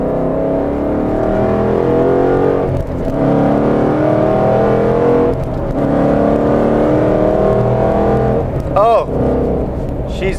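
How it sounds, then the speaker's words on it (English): A car engine on a newly run-in vehicle, around 800 miles, revs up through gear shifts at about 5,500 RPM, loud and close, with rising pitch that breaks at each shift, under occasional talk. "I'll give you guys a little bit of a higher RPM shift."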